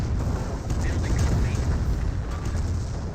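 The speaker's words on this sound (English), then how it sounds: "Looks like this one did survive the artillery barrage, and this one will may be hit by the artillery barrage." An artillery barrage in Company of Heroes rumbles as dense, continuous low booms and explosions, with someone talking over the battle.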